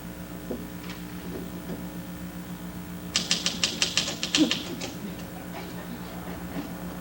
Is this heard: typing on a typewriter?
yes